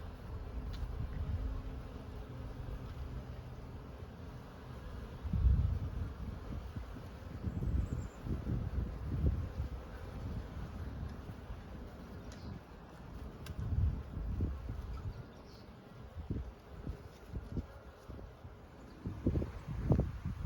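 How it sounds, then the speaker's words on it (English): Honeybees flying at hive entrances outdoors on a March afternoon, a soft continuous buzzing hum mixed with wind noise buffeting the microphone. "And the bees are really flying."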